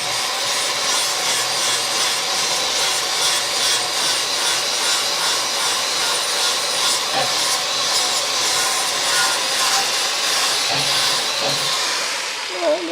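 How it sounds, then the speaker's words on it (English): Grinder dressing down a weld on a truck frame rail, a steady loud abrasive hiss running continuously and close up with no pauses. "Might be able to grind it a little bit smoother."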